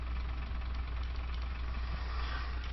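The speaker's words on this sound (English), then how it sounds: "let's start up the diesels, and you guys will see this" Submarine diesel engines running in the UBoat simulation game, a steady, low, chugging engine drone with a faint knocking pulse, constant and close with no talking.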